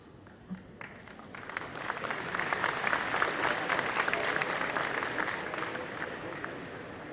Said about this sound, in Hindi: बहुत कम तालियां बजी।